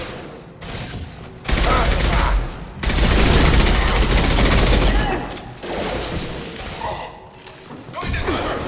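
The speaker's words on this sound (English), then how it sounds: "Firing an impact shot!" Heavy bursts of impact-shot gunfire in the Mass Effect 2 video game, dense rattling volleys with mechanical clanks that swell and pause across several seconds, loud and close.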